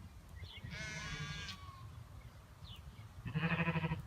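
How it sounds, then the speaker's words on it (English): Sheep on a farm bleat as the farmer calls to them, with two wavering bleats near and fairly loud, one early and one at the end, and a quieter pause with faint noise between. "Watch the farmer as he calls to them."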